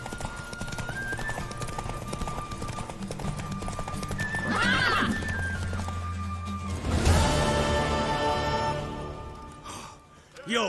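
A horse in The Witcher 3: Wild Hunt clops its hooves, gives a loud whinny midway and a snort near the end, layered over game music and dialogue.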